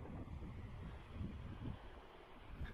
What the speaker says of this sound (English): Bit windy, but hopefully you can hear me.